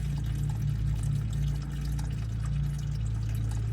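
Coolant draining from the radiator of a 2009 Toyota Camry, a continuous steady pouring rush with a low hum, close and unchanging throughout.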